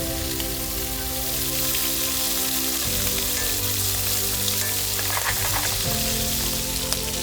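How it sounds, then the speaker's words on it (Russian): Lobsters frying in a pan, a dense, loud, continuous sizzle and crackle with a steady hum beneath, no voices. "Лобстеры по-новозеландски. Хорошенько обжариваем и не забываем переворачивать."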